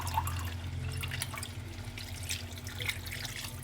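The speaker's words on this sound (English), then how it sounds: "we're going to add in about ½ cup of water" Half a cup of water goes into a pot of cooking spinach chicken, giving a faint, quiet trickle and a few drips up close.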